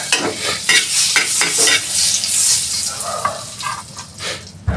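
Garlic sizzling in butter in a hot pan, with a constant crackling fry and repeated clicks and scrapes of a utensil stirring, close and loud throughout.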